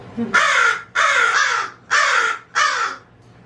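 Four harsh, raspy crow caws ring out one after another at a steady pace, loud and close, with brief quiet gaps between.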